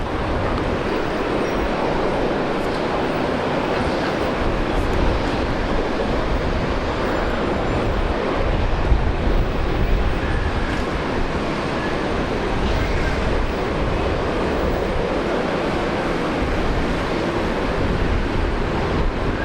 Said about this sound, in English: Fokker 100 off to Cairns